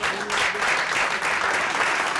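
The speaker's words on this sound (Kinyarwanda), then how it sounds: "Mumwongera amashyi mw'abantu mwe." An audience at a Gen-Z comedy show in Rwanda claps loudly and continuously, a dense wash of applause from a packed crowd with faint cheering mixed in.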